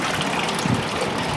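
Water gushes from the engine of a Range Rover SVR as its oil is drained, making a loud, continuous rushing and splashing close by.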